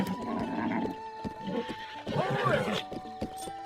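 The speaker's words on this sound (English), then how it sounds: "Okay, so now we can register this horse." A horse in Zelda: Breath of the Wild neighs loudly over a steady game soundtrack, with soft clip-clop hoofbeats and light background ambience running throughout.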